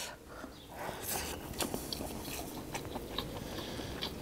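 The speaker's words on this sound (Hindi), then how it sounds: "पहली बाइट" Someone takes a first bite of a dry, spicy masala chicken leg, close and quiet: a few crisp crunches and scrapes, then soft chewing.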